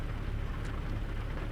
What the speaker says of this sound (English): Oh, we got some rain.